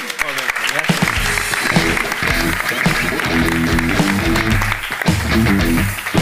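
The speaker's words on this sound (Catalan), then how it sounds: "Un aplaudiment pel Joan, ara sí." An audience at a live comedy show claps steadily and fairly loudly for about six seconds, mixed with background music and voices.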